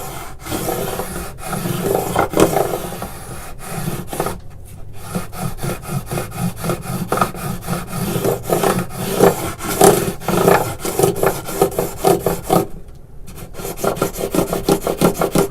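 A file rasps across acoustic guitar frets in long, rhythmic back-and-forth strokes, each a loud gritty scrape, with a couple of brief pauses between passes, heard up close with no talking.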